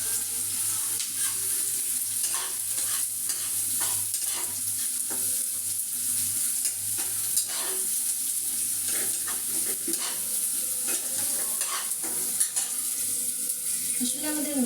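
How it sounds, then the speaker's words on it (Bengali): Onions frying in a pan on raised heat until brown, a steady close sizzle with frequent stirring scrapes and taps, running continuously with faint water-like splashes in the background. "পেঁয়াজগুলো আমি বাদামি করে ভেজে নিব"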